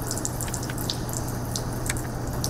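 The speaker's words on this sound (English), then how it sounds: "Just a little trickle of water." A bathroom sink faucet left running a thin trickle to keep pipes from freezing in cold weather, a steady close-up stream with light irregular drips and splashes over a constant low hum.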